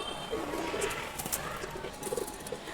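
Old-breed chharachari-line pigeons of down shape coo in low, soft gurgles scattered through a few seconds, close by against a steady background murmur.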